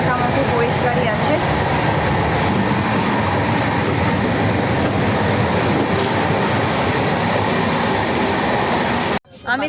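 Interior of a moving passenger train on the NJP to Agra route, with a steady loud rumble and rattle of the carriages running continuously before cutting off abruptly near the end.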